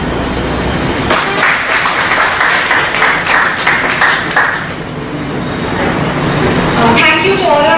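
Applause at a workshop inauguration, audience clapping sustained for several seconds, dipping briefly midway, with a voice and background hall noise under it and a ringing tone near the end.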